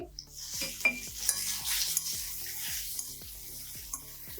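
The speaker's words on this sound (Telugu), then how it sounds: "కొత్తిమీర వేసుకున్నాక 1 సెకండే ఏగనివ్వండి, ఎక్కువసేపు ఏగనివ్వకండి" Curry leaves and coriander sizzle in hot oil in a pan for pesara vada, with tomatoes already cooking, a steady frying hiss broken by light clinks of a spoon stirring against the metal.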